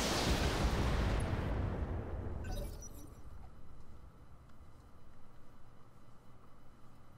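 A heavy mech weapon fires a headshot in the game Roguetech, a loud crashing blast that fades into a rumbling, crackling tail.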